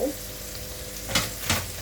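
Rice stir-fried in a pan with carrot, diced meatballs and chopped fried egg, a steady close sizzle with two brief scraping stirs of the spatula near the end.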